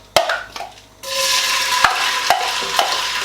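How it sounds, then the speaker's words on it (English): Onions tossed into heated oil for a biryani or pulao crackle into a steady, fairly loud sizzle after an opening clatter, with a few sharp stirring clinks punctuating the frying. "the first thing we do is we're going to chuck in our onions"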